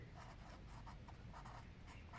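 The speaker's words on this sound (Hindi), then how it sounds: "हम यहां लिख देते हैं" Handwriting on a board or page during a Hindi poetry-meter lesson, soft scratchy strokes in short bursts against a steady background hiss, faint and close with no talk.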